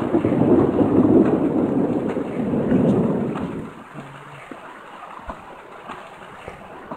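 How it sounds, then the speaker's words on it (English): Rain and rumbling thunder from the Survival Craft video game, a loud broad wash for the first few seconds that eases into quieter patter with scattered faint drops and thuds. "Rain, rain, rain, rain."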